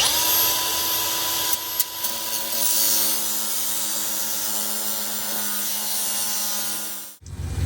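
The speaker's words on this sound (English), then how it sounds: "Next thing I'm gonna do is go ahead and take off that corner with the grinder." An angle grinder cuts off a plastic corner on a 2019 Ram 1500 pickup during a wheel spacer install, giving a steady, loud whine that holds for about seven seconds before stopping abruptly.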